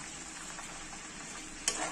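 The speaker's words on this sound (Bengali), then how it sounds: "এবার এখানে দিয়ে দেবো চালটা, ধুয়ে রাখা চাল" Washed basmati rice tossed and fried in spiced oil for bhuna khichdi gives a steady close sizzle with light stirring scrapes, and a brief sharper burst near the end.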